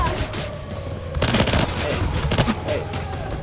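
Rapid gunfire from the video game Scarlet Shel, dense bursts of shots that build in the middle and stay loud and continuous, with a voice partly underneath.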